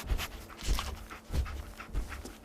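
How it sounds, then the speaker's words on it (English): A dog in the video game Fallout 4 sniffs and pants nearby in quick rhythmic bursts, with soft breathy huffs repeating steadily and no voices. "Dog meat. Get the scent, boy."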